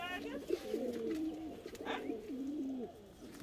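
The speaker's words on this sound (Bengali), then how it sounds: "বন্ধুরা দেখুন এইটা মাদা পায়রা" A female pigeon in a loft coos nearby in low, warbling rolling phrases that repeat across a few seconds, with a brief higher chirp mixed in.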